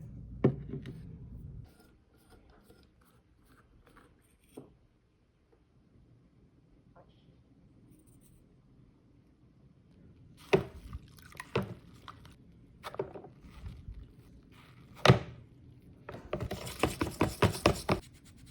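A thick bristle brush scrubbing a Bakelite part from an antique porcelain light fixture, with sparse wet scratches and taps through a quiet stretch, then a later burst of louder, quick bristly strokes near the end.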